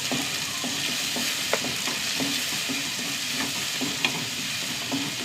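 Onions fry steadily in a pan with small pieces of ginger, garlic and curry leaves, a continuous close sizzle broken by light rhythmic stirring taps.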